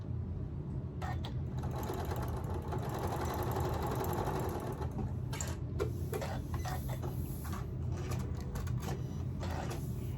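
Sewing machine stitching fabric for a stuffed toy elephant, a steady close-up motor hum with rapid rhythmic needle ticking, briefly pausing and restarting a few times.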